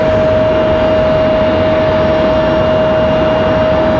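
A passenger jet lands at Raleigh-Durham International Airport, a steady loud broadband engine roar with a sustained high whine running throughout, heard alone without talk.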